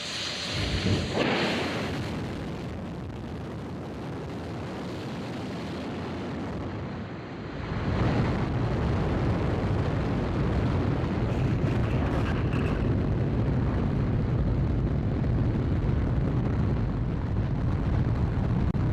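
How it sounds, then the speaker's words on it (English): Artemis II rocket's core stage engines igniting at launch: a rising, sustained roar that swells sharply partway through into a loud, continuous thunderous rumble. "GLS is go for core stage engine start."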